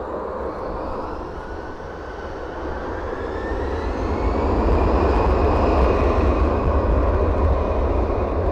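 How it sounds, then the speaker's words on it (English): Jet engines of an easyJet Airbus in Neo livery at Manchester Airport, a dense rumbling roar with a rising whine that grows louder partway through and stays strong. "Lovely Neo livery EasyJet coming out."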